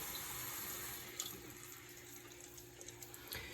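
Tap water runs steadily to rinse developed black and white film, a faint continuous splashing hiss with a few small clinks near the end.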